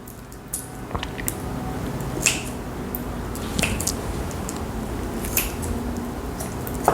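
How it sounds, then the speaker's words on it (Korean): Kitchen scissors snip the teeth from webfoot octopus being cleaned, giving sharp scattered clicks and wet squishy handling noises at close range with no talking. "그래서 자, 이빨을 가위로 제거를 합니다."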